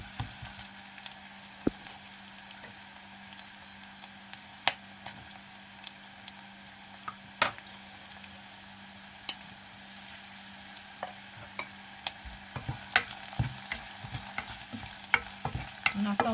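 Onions for bo bun, a Vietnamese rice vermicelli and sautéed beef dish, fry gently in a pan, with a soft sizzle under repeated scraping clicks and taps of a utensil stirring them close by.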